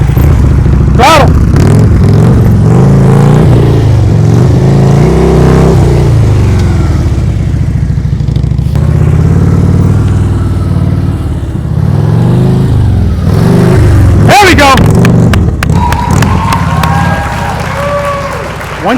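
Motorcycle engine revving during slow-speed riding practice, loud and close, rising and falling with throttle over a continuous running drone, with wind noise and a few brief bumps.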